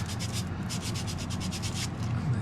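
Sandpaper rubs steadily against the wooden handle of a kit-built bottle opener, working toward 600 grit, in close repeated back-and-forth strokes of even loudness with no talking.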